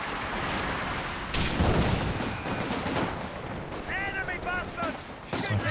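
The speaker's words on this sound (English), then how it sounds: "Stun nade out." A stun grenade going off in the real-time strategy game Company of Heroes 2, a sharp burst amid steady gunfire and battle noise, with a voice talking over the action.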